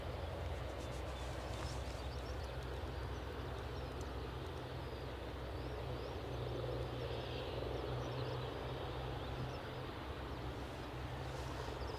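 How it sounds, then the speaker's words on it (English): A British Airways jet at Aberdeen airport on its runway departure roll, a steady, distant broadband engine roar that stays even in loudness throughout, with no talking. "British Airways departure is now on the runway, so let's go to it."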